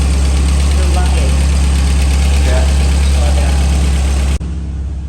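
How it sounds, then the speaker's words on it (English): A 1983 Porsche 924 engine idles steadily at close range, a loud continuous rumble with a slight uneven throb, cutting off abruptly near the end. "What we need to do now is slow your engine down."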